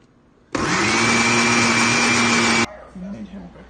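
A blender whirs loudly for about two seconds, blending a smoothie of raspberries, blueberries, strawberries, banana and almond milk with vanilla, starting abruptly and cutting off, followed by quieter voices.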